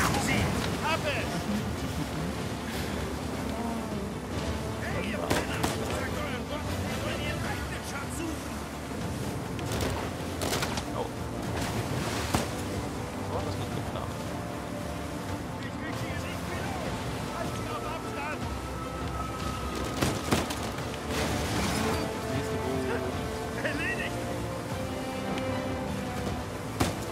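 Motorboats race across open water in the video game Uncharted 4, with a steady engine roar and wind noise, water splashes, and a few sharp bursts, all continuous under someone talking.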